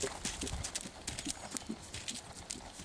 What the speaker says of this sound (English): And then ask him to canter with a low neck like that.